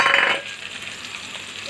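Green chillies dropped into a hot oiled pan with onion and curry leaves for ivy gourd curry, a loud burst of sizzling at first that quickly settles into a soft, steady frying hiss.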